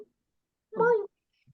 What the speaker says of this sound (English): cat? Kitty cat? Cat, yes?